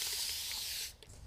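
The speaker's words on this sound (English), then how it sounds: "So I'll just spray this lid" A single sustained hiss from a spray bottle misting a paint container lid, close and fairly loud, cutting off after about a second, followed by a few faint clicks.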